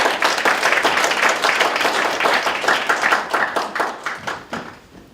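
Audience at a graduation ceremony breaks into loud, sustained applause, dense hand claps filling the room before thinning into scattered claps and fading out.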